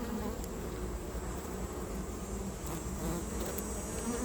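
Honey bees swarm over an open hive with frames of honey and brood exposed, giving a dense, steady buzz that fills the whole stretch at close range without a break or any voice.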